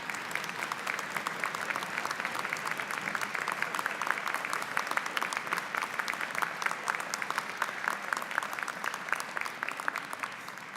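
Sustained audience applause at a university winter graduate commencement, honoring graduates' families and friends; dense, steady clapping from a large crowd fills the whole stretch at even loudness, with no talk over it.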